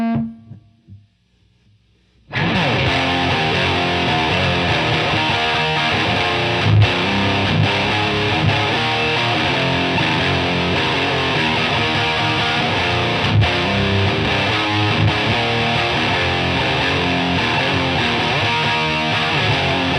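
A Sovtek Bassov Blues Boy distortion pedal, modified and repaired, driven by an instrument after a short quiet lead-in, giving a loud, sustained, heavily saturated tone that holds steady for the remainder.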